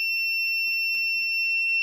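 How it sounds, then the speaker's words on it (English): A portable notification buzzer sounds a continuous, steady high-pitched alarm tone at close range for the whole clip, with a few faint clicks underneath. "the buzzer which I carry around also started going"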